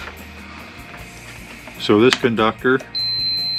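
A multimeter continuity tester beeps while checking a wire conductor: a steady, high electronic tone starts after a short burst of speech and holds to the end.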